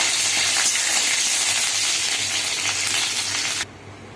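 Curry leaves frying in hot oil for a mutton pepper fry, a dense steady sizzle with crackle that runs loud and even, then drops abruptly to a faint hiss near the end, with no talk.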